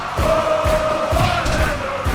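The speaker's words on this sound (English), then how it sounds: "the crowd in full effect already" A dense wrestling event crowd roars and cheers continuously at full volume, a loud sustained wash with rhythmic swells, no talk over it.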